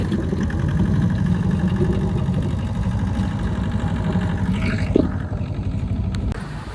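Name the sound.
motor vehicle engine running after being started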